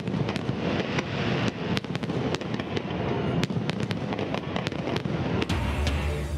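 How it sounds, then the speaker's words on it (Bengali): Fireworks at a US Independence Day (245th) celebration in New York, a dense run of booming bursts and sharp crackles, with many distinct bangs over a continuous rumble, fairly distant. "আতশবাজির ছটায় যুক্তরাষ্ট্রের ২৪৫তম স্বাধীনতা দিবস উদযাপন।"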